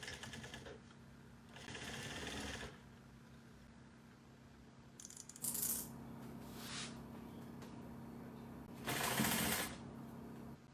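A sewing machine stitches a half-inch seam on a bucket bag with a drawstring, running in two long bursts and a few shorter ones, with quieter pauses between runs and a low steady hum underneath.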